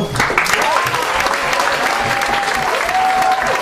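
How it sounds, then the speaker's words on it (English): Steady, loud applause from a crowd fills the whole stretch, with a continuous dense patter of clapping and a faint tone running underneath. "a round of applause to all the presenters"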